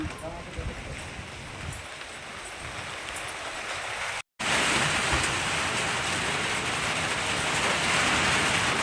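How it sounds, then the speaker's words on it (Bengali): Heavy rain falls under a dark, clouded sky as a dense, continuous hiss that grows louder after a brief cut midway, with a voice talking over it. "প্রচুর জোরে বৃষ্টি আরম্ভ হয়ে গেছে"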